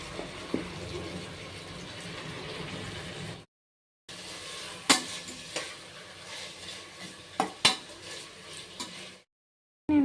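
Marinated chicken fries with tomato in a pan for biryani, a quiet sizzle with scattered clinks of a spoon stirring against metal, close by, broken by two short silent gaps.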